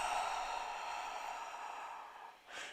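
Long slow exhale through the mouth during a relaxing yoga stretch, a soft airy breath lasting about two seconds, close and quiet, followed by a short second breath.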